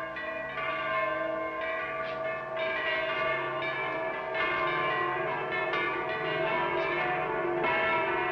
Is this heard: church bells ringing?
yes